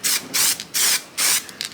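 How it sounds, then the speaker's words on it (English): Spray gun applying paint to a section of a 2015 Mercedes-Benz C450 AMG body, heard as four close hissing bursts of roughly a third of a second each, separated by brief pauses. "Alright, so let's get this section sprayed in."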